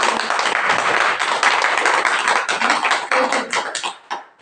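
Audience clapping hands at a Brahma Kumaris spiritual discourse, a dense steady patter of many claps that holds loud for about four seconds before thinning and fading out near the end.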